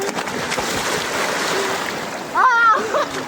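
Sea waves wash and splash around a boat on the open water. The water noise is steady and fairly close, and a brief tonal squeal rises near the end.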